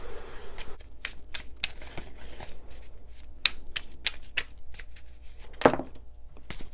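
Tarot cards shuffled and handled, a run of crisp, irregular papery flicks and snaps close by, with a few sharper slaps, alone without talk.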